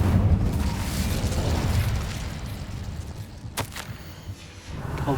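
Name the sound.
Descendo and Incendio spells in Hogwarts Legacy video game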